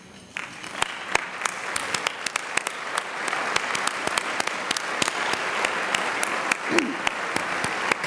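Sustained audience applause at a community breakfast, dense clapping from a large crowd continuing steadily throughout with a few sharper claps standing out near the front.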